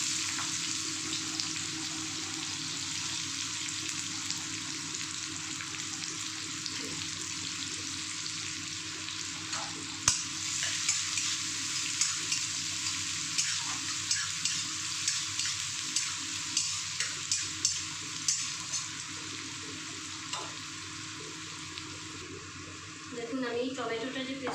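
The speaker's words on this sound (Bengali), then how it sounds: "এবার আমি পেঁয়াজগুলো দিয়ে দেবো। পেঁয়াজটা আমি ছোটো ছোটো করে কেটে নিয়েছি।" Chopped onions sizzle in hot oil with whole garam masala, a steady close frying hiss with periodic scrapes and clinks of a stirring spoon, and a voice speaking over it.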